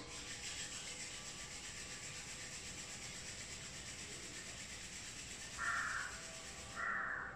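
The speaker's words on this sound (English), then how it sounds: "Now rub your palms." Palms rubbed together during a Himalayan hatha yoga session, a soft steady brushing friction sound throughout, faint and close, with a couple of brief louder swishes near the end and no talk.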